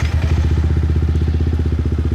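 Close, loud motorcycle engine with a rapid steady thumping exhaust pulse as the bike rides through the streets of Saigon.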